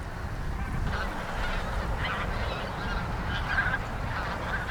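A dense flock of snow geese honks continuously over a wintering farmland wetland at Cheonsu Bay, the many overlapping calls forming a loud, steady chorus with no voices.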